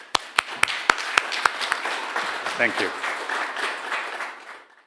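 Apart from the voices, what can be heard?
audience applause at an award ceremony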